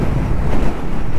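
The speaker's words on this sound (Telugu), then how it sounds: "ఓహో ఏంటి గాలి" A strong, sudden gust of wind buffets along an open road at night, a loud, brief rumbling rush with uneven swells.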